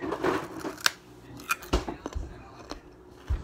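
Scissors snipping: a few quick, crisp cuts with crunchy clicks scattered irregularly over a few seconds, close and moderately quiet.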